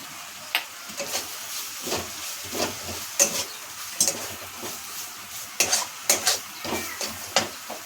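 Soaked chickpeas and grated coconut being stir-fried in a pan, a soft sizzle under repeated scrapes and clinks of a spatula against the metal in an uneven, busy rhythm.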